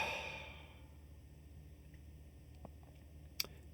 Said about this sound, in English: I need a deep breath here.